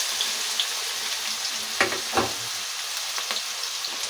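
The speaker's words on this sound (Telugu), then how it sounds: "ఆయిల్ పోసుకున్నాను కదా, ఇది కాగినైతే కాగింది కదా, ఇందులోనే బీరకాయ ముక్కలు వేసేసుకున్నాం." Ridge gourd pieces fry in heated oil with a steady, hissing sizzle throughout, broken by a couple of brief utensil knocks, close up and with no voices.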